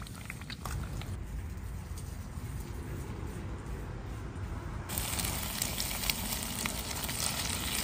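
Five eggs stir-fry in a pan at a coastal island campsite, with steady close sizzling, crackle and light scraping that grow louder and brighter partway through.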